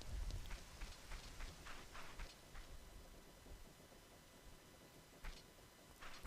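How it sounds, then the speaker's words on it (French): Steady, faint rain hiss with scattered droplet patters and a few louder splashes, falling in a graveyard area of the video game Zelda: Ocarina of Time, with no voices over it. "Et il pleut."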